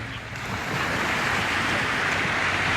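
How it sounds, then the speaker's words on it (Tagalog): Ocean waves wash steadily onto a beach, a continuous broadband surf roar with some wind noise on the microphone, fairly loud and close throughout, with no talking. "Ayun ang alon. Rinig nyo?"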